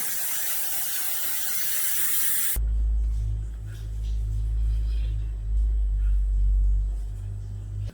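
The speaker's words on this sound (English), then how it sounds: "Final satin spray is the L'Oreal 3 Second Satin Mist." A hissing burst of fine mist from a L'Oreal 3 Second Satin Mist makeup setting spray lasts about two seconds, then cuts off abruptly, leaving a low rumbling hum.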